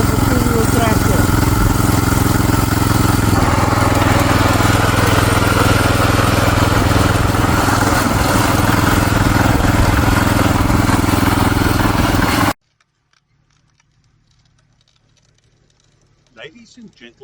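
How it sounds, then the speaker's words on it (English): Two-wheel tractors towing push planters run loudly and continuously with a steady engine drone, which cuts off abruptly, leaving near silence with a few faint noises near the end. "these machines that are being towed by these small tractors"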